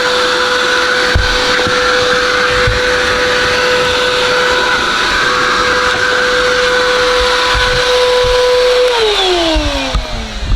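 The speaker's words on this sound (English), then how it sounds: "this vacuum ain't even working that good." Loud, steady whine of a vacuum cleaner with weak suction cleaning a Chevrolet Caprice interior, small thumps from the nozzle, then the motor pitch drops as it powers down near the end.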